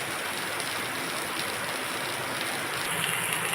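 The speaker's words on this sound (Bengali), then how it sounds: "বাইরে খুব বৃষ্টি হচ্ছে তাই আওয়াজটাও জোরে হচ্ছে বৃষ্টির আওয়াজ" Heavy rain pours down outside, a dense, steady broadband hiss with no breaks, heard alone with no talking for the full few seconds.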